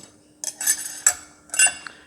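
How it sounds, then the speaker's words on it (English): Metal clutch plates being fed one by one into a John Deere PTO clutch pack, giving several bright metallic clinks and rattles in short bursts, close and clear against near silence. "once you've got the plates in, the first one in, just start feeding them in"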